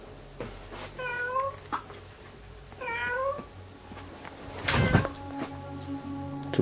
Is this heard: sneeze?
no